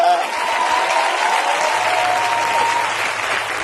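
Church congregation at an evening service applauding and cheering for the Lord, a dense sustained roar of many hands clapping with voices mixed in, loud and close, continuous throughout with no pauses.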